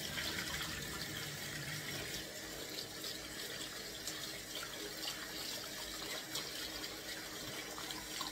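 Kitchen tap running as vinegar is rinsed off fish, a steady splashing stream of water into a sink, continuous and fairly close without any talk.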